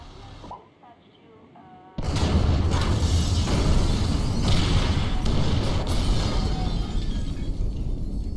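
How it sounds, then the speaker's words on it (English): Incendiaries detonating in GTA 5 first-person gameplay give a sudden loud blast that opens into a sustained roaring, crackling wash of fire and debris noise, preceded by quieter game sounds, with no talk over it. "Detonate the incendiaries, Frank."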